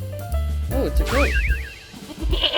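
A goat gives one short, wavering bleat, loud and close, in a farm-animal learning game, with a brief thump just before it.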